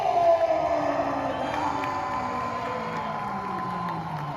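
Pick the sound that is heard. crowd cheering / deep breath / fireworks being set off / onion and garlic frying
crowd cheering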